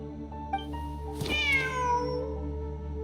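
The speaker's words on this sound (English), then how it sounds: "Wait, there it is! The cat!" A cat meows once in the video game Genshin Impact, a clear rising-falling call over a steady hum of game music and ambience.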